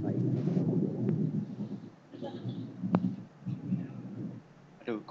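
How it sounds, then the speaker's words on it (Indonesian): Thunder rumbles through an online meeting, a low, muffled roll lasting several seconds, heard faintly through the call under scattered background noise. "Aduh, Guntur."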